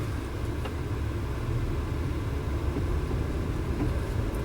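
Interior of a 2012 Volkswagen Passat SE on a test drive, a steady low road rumble and engine hum throughout, no talking.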